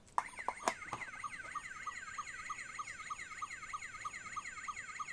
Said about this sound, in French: Bon, la sirène, c'est une sirène